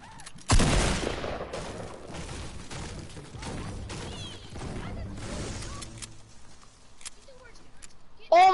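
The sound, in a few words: infantry rifle gunfire in a video game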